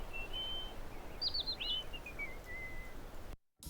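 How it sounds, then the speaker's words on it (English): Birds in the video game South of Midnight give thin high chirps and a short warbling call over a steady soft background, faint and alone, before the sound cuts out at the end. "The birds are spying on us."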